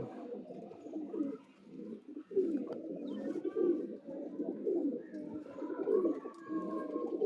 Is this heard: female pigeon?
yes